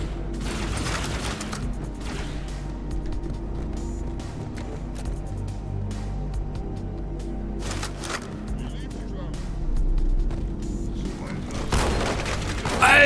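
Shotgun and other weapon fire in the first-person shooter Halo 2 Anniversary, with booming blasts and mechanical reload clatter layered over steady game ambience and a continuous talking voice.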